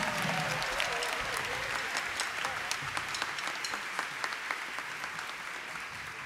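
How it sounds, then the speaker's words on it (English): A crowd at an outstanding educator awards ceremony breaks into steady, sustained applause, a dense patter of many hands clapping at moderate distance with a few sharper claps standing out. "Let's have another round of applause for Taylor."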